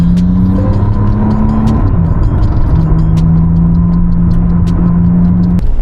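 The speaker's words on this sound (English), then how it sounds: "You can hear the electric motor going right now." A 2025 McLaren Artura Spider hybrid supercar running on its electric motor, a steady tonal whine that shifts pitch over a loud constant road and cabin rumble, heard from inside the car.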